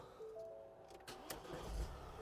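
A 2020 Ford Transit Custom van with a 2.0 TDI diesel engine is started: a faint, quiet cabin hum, then a brief starter crank around the one-second mark and the engine catching into a low, steady idle.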